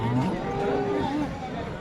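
A cow moos with a low, drawn-out call at the Sangola cattle market, amid the murmur of a busy crowd, voices chattering in the background.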